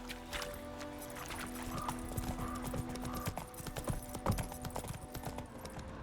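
Geralt's horse Roach trots in the video game Witcher 3, its hooves clopping in a steady, close rhythm through crunchy, slightly distorted mic audio.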